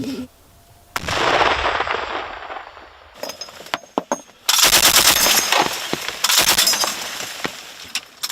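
Small arms and machine gun fire on the Bakhmut front in Ukraine, several loud bursts of rapid automatic shots with separate single cracks between them, fairly close, no talking.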